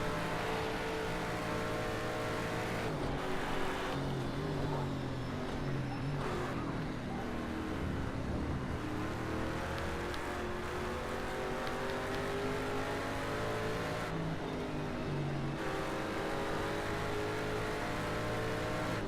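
Race car engines whine and rev steadily through a racing video game session, a continuous layered drone with shifting pitch sweeps and occasional rises, holding even loudness throughout.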